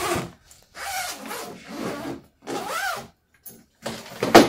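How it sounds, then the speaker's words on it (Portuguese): The zipper on a suitcase is pulled closed in several quick rasping strokes separated by short pauses, close and clear, with no talking. "Depois só é fechar o zíper da mala."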